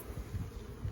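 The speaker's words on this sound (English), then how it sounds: "Shake off a few bees." A low, steady buzzing of honey bees hums close by during a honey harvest at an open hive, rising and falling slightly with no voices.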